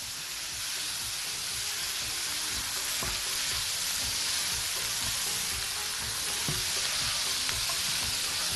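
Olives and fried potatoes sizzle loudly and steadily in a sausage pan, with occasional sharp ticks and scrapes from stirring rising above the dense hiss.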